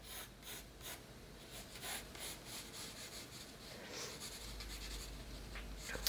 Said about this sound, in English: So I can start to draw in that shape